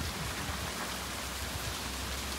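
Steady rain falling outside a house, a continuous even hiss of drops with no letup and no voices.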